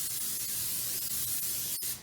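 A continuous hiss of aerosol cooking spray onto pans, held for about two seconds with a brief break, close and steady, then cutting off.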